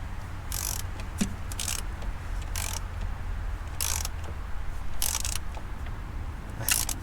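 A ratchet wrench tightens intake bolts to 15 newton meters on a Porsche Cayenne S 958 with a 4.8L V8, sounding as short bursts of close clicking separated by pauses over a steady low hum.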